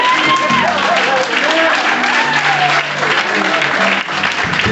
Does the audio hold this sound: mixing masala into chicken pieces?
no